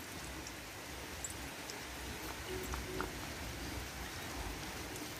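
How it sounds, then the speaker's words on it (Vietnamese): Light, steady rain patters continuously at a soft, even level, a faint close hiss with occasional drip ticks and no voices. "Trời đang mưa rỉ rả"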